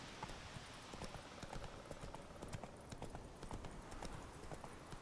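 A horse galloping in The Witcher video game, its hooves drumming in a fast, continuous rhythm of many crisp strikes, fairly quiet, with no voices.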